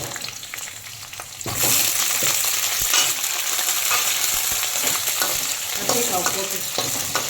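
Sliced brinjal dropped into hot oil for a curry: a quieter start, then a sudden loud, dense sizzle that holds steady and close, with faint utensil scrapes mixed in.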